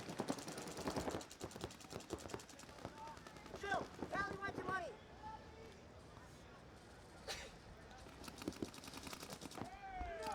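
Paintball markers fire during a professional tournament match, with bursts of rapid, sharp pops and mechanical clacks scattered through the clip beneath continuous commentary from a voice.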